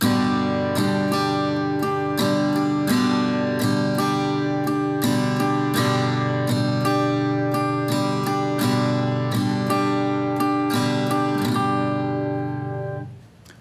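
A guitar strums chords in a steady syncopated down, down, up, down, up pattern, mixing sharp accented strokes with lighter ones, loud and close, ringing out at the end.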